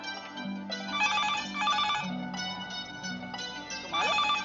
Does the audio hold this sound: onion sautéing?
no